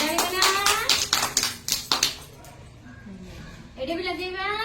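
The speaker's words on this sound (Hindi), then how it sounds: "वेरी गुड ताली बना" A small group of children in a preschool classroom claps hands in a quick run of sharp, close claps mixed with their chatter, then goes quiet before more talk.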